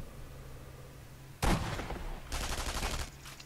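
Gunfire in Sniper Elite V2: a sudden loud crack followed by a second rattling burst of shots a moment later, close and punchy against a quiet background, no talking.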